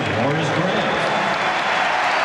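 An arena crowd at the 1993 NBA Finals between the Chicago Bulls and Phoenix Suns reacts to Horace Grant's foul with continuous loud applause and crowd noise, under a commentator's talk.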